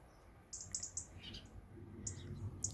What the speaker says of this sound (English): I can look out and see all the little birds visiting the bird feeders.